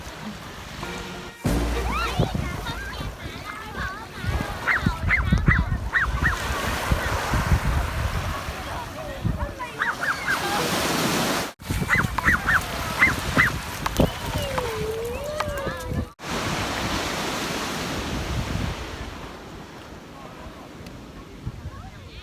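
Surf rolls and washes steadily onto Nai Harn beach in Phuket, Thailand, as a broad continuous rush of waves, with someone speaking over the water for much of the time.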